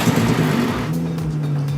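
A VW Jetta with a 5-speed manual pulls away, its engine note rising steadily and close by with a low droning hum, heard alone without talk.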